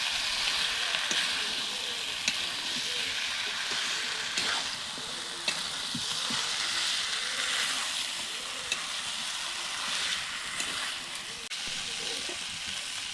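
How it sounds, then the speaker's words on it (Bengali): Pre-fried potatoes and green chilies are stirred into mutton curry in a pan for a Bengali dish, giving a steady low sizzle and frying hiss with soft, irregular scraping and stirring taps throughout. "তো এরপর আলুটি মাংসর সঙ্গে প্রথমে মিশিয়ে দেব।"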